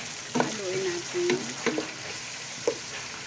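Chapsuey vegetables stirred in a hot pan with soy sauce, a soft sizzle under repeated scraping strokes and clinks of a spatula, close and fairly quiet, no voices.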